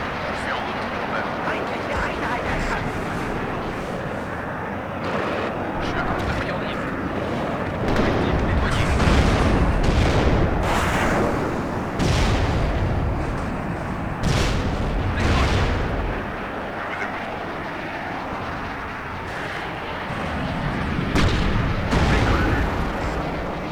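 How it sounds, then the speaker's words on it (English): Jet bombing run in the wargame WARNO: a steady rumble of aircraft and battle noise with repeated heavy booms and artillery-like blasts rising mid-way, continuous and loud, with a voice talking over it. "we're going to come in for another bombing run"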